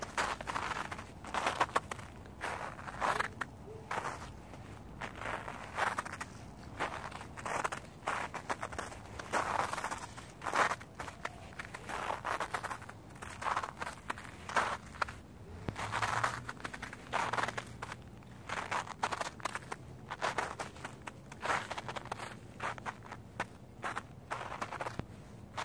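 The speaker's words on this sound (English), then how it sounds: "Satisfying, crunchy, right before Christmas snow." Footsteps crunching through fresh snow just before Christmas, a steady, close rhythm of crisp crunches one after another, with no talking.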